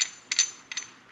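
A ratchet tightens a QA1 coilover part on a 1968 Mustang during a disc brake conversion: three short bursts of rapid metallic clicking, close and crisp, with quiet gaps between them.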